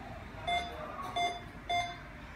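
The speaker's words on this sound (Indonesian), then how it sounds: "Alarm bunyi karena ada indikator terlalu tinggi sesuai dengan demo yang ada warna kuning." Beckman Mec-1200 patient monitor sounding a high heart-rate alarm: three evenly spaced electronic beeps, each a short tonal chirp about half a second apart, moderately loud over a low hum of room noise.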